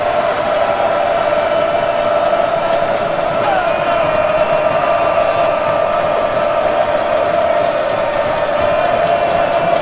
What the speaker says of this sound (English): the crowd is still very much into it